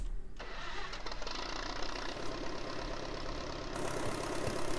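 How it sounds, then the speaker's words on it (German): International Harvester 340 Utility tractor engine starting in Farming Simulator 19, with a brief cranking burst followed by a steady, rumbling idle that continues alone. "lass mal den Motor an."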